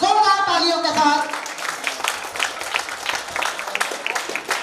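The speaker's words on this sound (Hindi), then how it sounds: "सभी के लिए सामूहिक उच्चारवर्धन जोरदार तालियों के साथ।" Applause from the audience at a Louis Braille birth anniversary ceremony, a steady spatter of many hands clapping that rises as a voice fades out at the start and continues loud and close.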